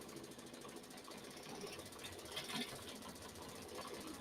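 An embroidery machine stitches a design onto cardstock with polyester-core thread, making a fast, steady mechanical chatter that runs continuously at low volume with no voices.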